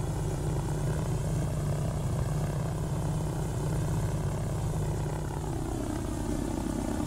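A propeller airplane drones steadily in a flight simulator over the islands of Samoa, a continuous engine hum holding level throughout with a slight dip near the end, no talk.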